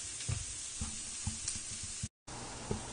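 Onions frying in a pan for chili, giving a steady close sizzle with a few scattered stirring clicks and a brief dropout near the end.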